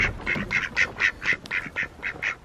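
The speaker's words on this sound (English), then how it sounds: "Ducks." Farmyard ducks quacking in a quick run of about a dozen sharp calls, fairly close and clear, with no talk over them.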